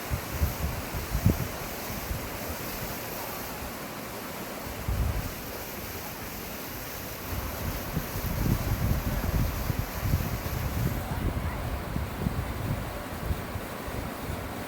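Sinnakallar waterfall in Valparai pouring heavily during drizzling rain, a continuous broad roar of rushing water with gusty wind noise, steady and fairly loud throughout.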